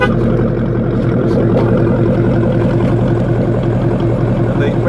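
A Ford Mustang GT with the 5.0 Coyote V8 and an aggressive exhaust system runs in a loud, steady, deep droning rumble, close up, with the pitch barely changing and faint talk underneath.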